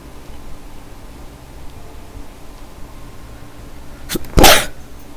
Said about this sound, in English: I always get nervous every time I have to sneeze